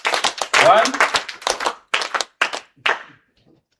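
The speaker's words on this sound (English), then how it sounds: "So can we clap for Iaea 3 times?" An audience at a university summer school claps in short, sharp bursts with brief gaps between them, a rhythmic pattern that fades out to silence, while a voice is heard.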